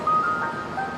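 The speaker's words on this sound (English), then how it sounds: "I wish that damn ice cream truck would go" An ice cream truck's jingle plays outside, a thin, steady electronic melody heard at moderate distance over low background rumble.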